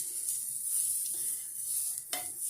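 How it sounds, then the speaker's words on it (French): Potatoes tossed with fines herbes and herbes de Provence sizzle in butter in a pan, a steady close frying hiss with a couple of sharper spatters as they are rolled around. "quand vous les faites rouler dans une casserole avec un peu de beurre"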